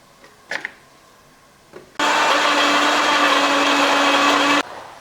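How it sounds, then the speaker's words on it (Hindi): A mixer grinder blends tomatoes and green chillies into a paste, starting abruptly after a couple of faint clicks and running loud and steady for about two and a half seconds before cutting off. "ये ग्राइंडर ले लेना है और इसमें ये टमाटर और हरी मिर्चें, इसका पेस्ट बना लेना है"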